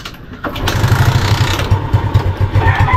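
A Suzuki Smash motorcycle engine is started cold, with a mechanical clatter and churn, then settles into a rapid, rough idle pulse close by, loud and alone.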